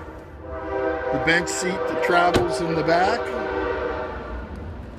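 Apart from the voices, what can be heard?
passing train with horn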